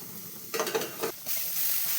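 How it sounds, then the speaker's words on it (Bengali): Potato pieces fry in oil with salt and turmeric in a pan, with a quick run of scraping stirs up close before the steady sizzle settles back in alone. "ভেজে টুকরো করে কেটে রাখা আলু এর মধ্যে দিয়ে আলুটাকেও ভালো করে লালচে করে ভেজে নিচ্ছি।"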